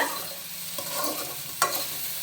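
Okra sizzles steadily in hot oil in a pan, a continuous bright hiss broken by a couple of stirring scrapes, close and with no talking.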